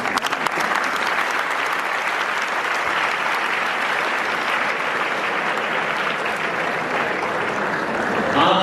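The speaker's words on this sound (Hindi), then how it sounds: "आपने जिस कारण से ताली बजाई है" Audience applause in a hall during an address to students, dense steady clapping sustained loud throughout with no voices over it.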